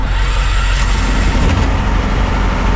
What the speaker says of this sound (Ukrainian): І далі запускаємо електростартером двигун генератора.